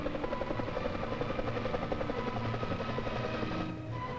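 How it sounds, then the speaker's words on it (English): An early four-bladed helicopter drones steadily with a rapid, rhythmic rotor thump throughout, fairly loud and constant, easing slightly near the end. "Some early four-bladed copters actually hovered, while others only bounced."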